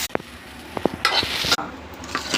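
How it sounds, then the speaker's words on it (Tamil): Okra sizzles in hot oil, with a bright hiss swelling briefly and a few soft clicks of a utensil stirring in the pan. "எண்ணெய் நல்லா சூடு பண்ணிவிட்டு வெண்டைக்காய் கொஞ்சம் நல்லா ஃப்ரை பண்ணி எடுத்துக்கோங்க தனியாக."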